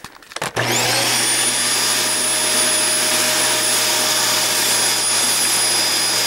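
A Dyson DC24 vacuum cleaner starts with a click and rises into a loud, steady whining roar of hose suction, close and continuous with a high tonal whine.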